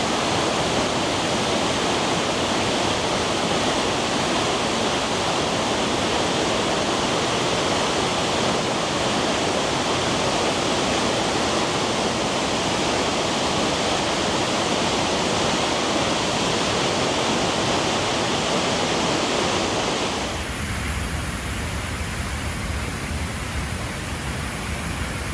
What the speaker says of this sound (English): have a look at this natural bridge and the waterfalls